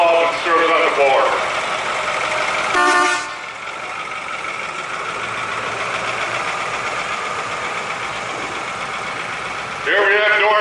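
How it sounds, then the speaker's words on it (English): A 1994 Ford F-150 pickup runs steadily through an antique truck show parade, its engine a continuous mid-level drone, with a couple of brief horn toots near the start and end and crowd noise around it. "Norm's got his 1994 F-150 Ford."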